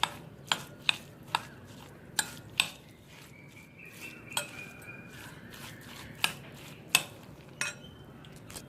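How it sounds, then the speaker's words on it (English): Cooked rice is mashed and mixed for curd rice, and a spoon gives sharp, irregular clinks and taps against a steel vessel between soft, squishy mashing. "Slightly mash the rice,"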